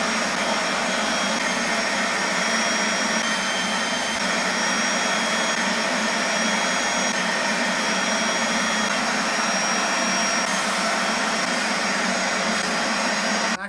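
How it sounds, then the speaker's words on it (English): A loud, steady whine of a scrubbing vacuum cleaner running continuously at close range without pause. "And we got this scrubbing vacuum thing."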